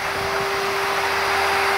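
A Numatic George multi-use vacuum cleaner runs nearby while cleaning artificial grass, giving a loud, steady motor drone with a constant whine and no pauses, heard on its own.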